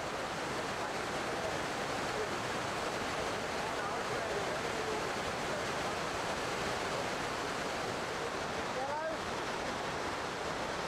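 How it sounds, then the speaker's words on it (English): Continuous loud roar of a 12-metre waterfall on a mountain river, the dense whitewater rush steady and close throughout, with a faint brief tonal sound near the end. "Then Hummel on a 12-metre waterfall."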